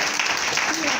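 A church congregation breaks into steady, dense applause in acclaim of the Lord, filling the room with a continuous wash of clapping.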